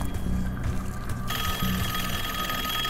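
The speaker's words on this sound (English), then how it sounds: "Who's dialing the phone?" A telephone rings inside the Call of Duty Black Ops 6 game world during a zombie fight, giving repeated ringing bursts that sit steadily over the game's background noise, with no talk over it.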